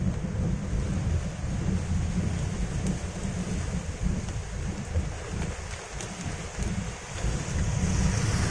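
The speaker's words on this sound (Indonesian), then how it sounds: "Takut gua kalau hujan angin kayak gini, ngeri cuy." Strong wind storm with heavy rain and rumbling thunder near a river's end, a loud continuous roar of gusts and downpour with deep low rumbles throughout, no voices.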